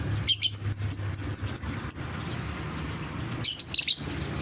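Lovebirds chirp noisily indoors at home, with a quick burst of sharp high tweets, a pause, then another cluster of chirps over faint room noise.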